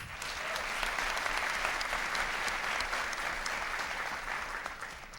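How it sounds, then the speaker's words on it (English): Sustained applause from a pageant audience fills the hall, steady and dense for several seconds before easing slightly toward the end, with no talk over it. "Your applause for Tanya Crooks."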